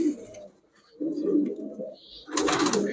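Sabchila racing pigeons, males and females in a dealer's stock, give low rolling coos in short bursts close by, with a brief higher sound near the end and no talk.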